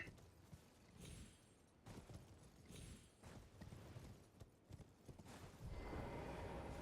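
Horse hooves clip-clop steadily in Black Desert, a soft, fairly faint trot with a low rumble beneath.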